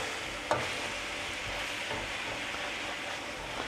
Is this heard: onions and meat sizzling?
yes